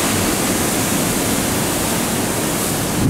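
Huge typhoon waves crash ashore on Miyakojima, a dense continuous roar of surf that holds loud and unbroken throughout, with no voices.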